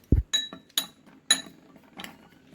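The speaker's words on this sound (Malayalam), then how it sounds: "പാലൊഴിച്ച് നമുക്ക് ഇതൊന്ന് മിക്സ് ചെയ്യാം" A spoon clinks against a bowl while milk is stirred into homemade face pack powder: a low knock, then four or five sharp, separate clinks and scrapes, close and fairly quiet.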